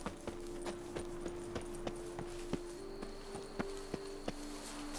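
Roach, Geralt's horse in The Witcher 3, walks at an even pace, and its hooves clip-clop in a steady rhythm, soft and fairly close, over a quiet ambient background.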